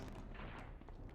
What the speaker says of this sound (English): how did he shoot me around the corner?